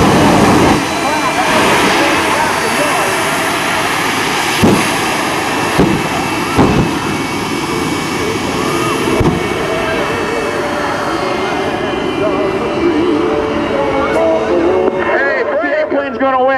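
The Air Force Reserve jet car roaring at an air show, a broad, sustained jet roar that swells and fades over time, with occasional sharp bangs and a crowd announcer talking through it.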